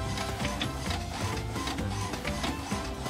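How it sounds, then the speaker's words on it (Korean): Steady mechanical whirring and rubbing of a Samsung SL-J1560 inkjet printer feeding and printing, a continuous busy hum with small ticks, close by. "출력을 하고 있습니다."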